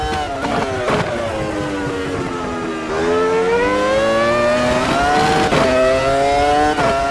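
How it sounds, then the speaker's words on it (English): A Formula 1 V10 engine of a 2001 Ferrari in a racing video game screams continuously at high revs, pitch climbing and dipping through gear changes, loud and steady throughout. "I have to be careful with all these over revving the engine situations"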